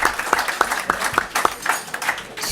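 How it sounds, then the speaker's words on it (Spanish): An audience at a political colloquium at a Madrid club applauds nearby. Individual claps stand out in a steady rhythm over a softer wash of clapping throughout. "Si aplauden mucho, perdemos tiempo."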